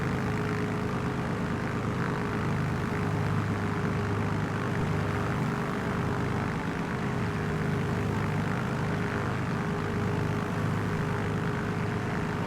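A Yakovlev Yak-9 propeller engine in Microsoft Flight Simulator 2020 drones continuously and loudly at a steady pitch, a constant rumbling hum with no pauses or speech.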